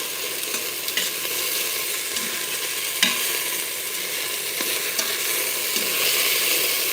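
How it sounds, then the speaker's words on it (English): Beef stew meat sears in a hot pan, a constant loud sizzle with occasional scrapes and taps of a utensil stirring the pieces, no talking. "we're just gonna cook all of this stew meat exactly the same to make sure that we get a good sear on all the sides"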